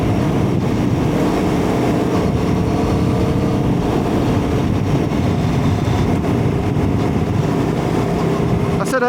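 Aprilia Tuono V4 1100 Factory motorcycle out on the road: a continuous loud engine drone blended with rushing wind noise, steady throughout.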